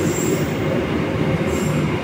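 The Argo Semeru passenger train departs from Solo Balapan, giving a loud, steady rumble of rolling wheels with faint high wheel squeal, continuous and close throughout.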